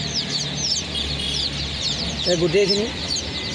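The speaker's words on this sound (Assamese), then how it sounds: "তাৰ মাজত কুকুৰা পোৱালিও আছে, আমাৰ লোকেল কুকুৰা পোৱালি" Local chicken chicks mixed with ducklings, chirping and peeping steadily up close, with a person speaking briefly over them.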